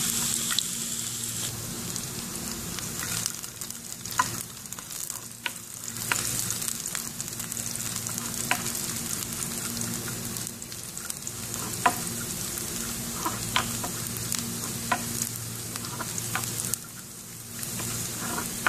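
Cashews and raisins fry in a pan for a Kerala thari kanji, giving a steady close sizzle with occasional crackles and stirring scrapes that runs throughout without any voices.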